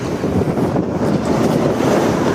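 Loud, steady wind roars and thumps against the microphone while fishing in Istanbul, a dense low rumble with no pauses and no voices.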